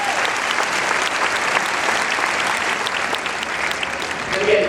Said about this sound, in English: Can I get another round of applause for these guys right here?